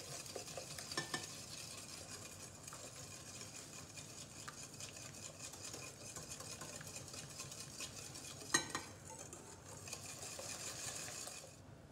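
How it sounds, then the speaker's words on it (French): Muffin batter with eggs being stirred in a bowl for blueberry muffins, a continuous soft scraping and swishing close by with a brief clink of utensil against the bowl near the end. "Je mélange un peu."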